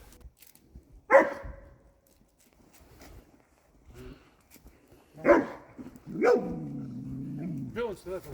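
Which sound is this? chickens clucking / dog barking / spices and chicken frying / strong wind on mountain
dog barking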